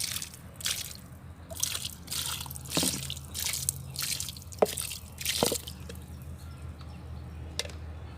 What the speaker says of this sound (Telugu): ఇప్పుడైతే నేను వాటరింగ్ ఇస్తున్నాను